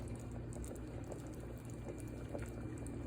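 Split pea soup with vegetables simmers gently in a pot, a faint, continuous low bubbling with soft liquid burbles and no voices.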